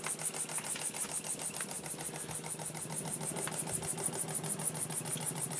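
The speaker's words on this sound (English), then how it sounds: "I'll run it down as slow as it'll go until the engine kind of stalls." A small aluminium model steam engine driving a pump jack at its slowest speed, a close rapid, regular chuffing pulse with a bright metallic ticking throughout.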